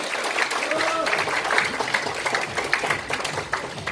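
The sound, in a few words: warm applause at a meeting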